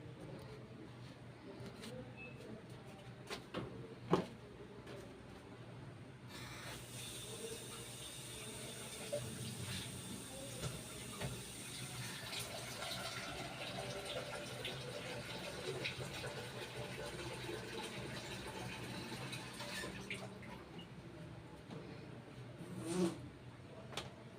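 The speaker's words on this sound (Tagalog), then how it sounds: "Kukuha muna akong tubig" Tap water runs steadily into a container for brewing barako coffee in a home kitchen, a continuous broadband rush that brightens and thickens as it fills, with faint clatter at the start and end.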